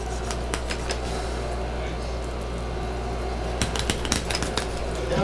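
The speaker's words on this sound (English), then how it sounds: "you can actually cut right through the rib bones" A knife crunches through the thin rib bones of a brook trout during filleting, several quick crisp snaps near the end after quieter handling, with a steady low hum underneath and talk over it.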